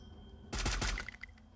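A sudden loud burst of rapid gunshots from the mobile shooter game Free Fire, a few sharp cracks in quick succession followed by fainter metallic pings as the shots trail off.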